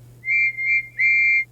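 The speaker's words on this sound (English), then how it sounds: "Whistled Toby and Percy." Steam engine whistles from Toby the tram engine and Percy the small engine in a Thomas the Tank Engine story, three clear tonal blasts in quick succession, the last one longest, over a low steady hum.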